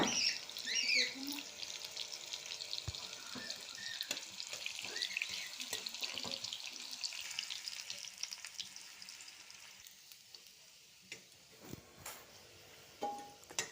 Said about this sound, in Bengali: আলুটা এবার একটু ভেজে নেবো লাল লাল করে।